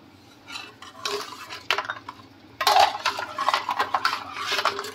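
A metal spoon stirring Rooh Afza sharbat in a vessel, with quiet clinks at first, then louder, quick repeated scraping and clinking against the container, no voices.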